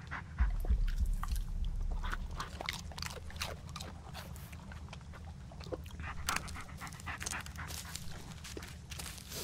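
A dog panting in the Blair Witch video game, a rapid, rhythmic breathy panting up close over a low rumbling ambience, carrying on steadily for several seconds with no speech.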